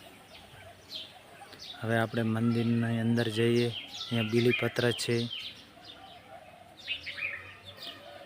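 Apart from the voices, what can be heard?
birds chirping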